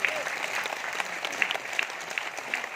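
Seminar audience in Bhubaneswar breaking into clapping, a steady dense patter of many hands held at an even level throughout.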